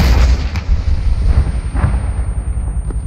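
Anti-tank rocket launched at a BMP armored vehicle in Arma 3, a loud close blast with a heavy rumbling roar that sustains and slowly decays across the whole moment, no speech over it.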